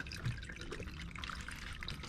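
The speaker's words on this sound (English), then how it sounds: "as you pull this plate off, a bunch more water is going to come out" Water pours and splashes continuously as a plate is pulled off a Yanmar 3YM30 marine diesel engine, a dense, close gushing with scattered drips and no talk.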